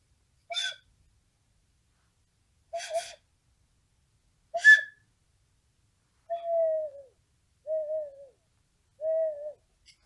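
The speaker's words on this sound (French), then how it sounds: "l'oiseau se contentait de pousser de temps en temps un petit cri plaintif" A small bird gives a plaintive cry, repeated six times with long silent gaps: short hoarse calls at first, then softer drawn-out falling notes, faint and alone in a quiet setting.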